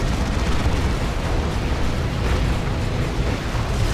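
Frag grenades burst in a Dawn of War 2 battle between Space Marines and Orks, a dense, continuous roar of overlapping explosions and rumbling blasts with no pauses, loud and close throughout.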